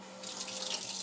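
California tap water runs steadily from a faucet into a sink, a soft, constant hiss and splash with no break and no talking.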